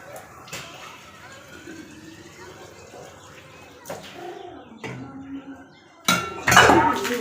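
A metal pot is filled with water and set down in a home kitchen, with faint pouring, clinks and a loud clattering clunk near the end, over light background sounds.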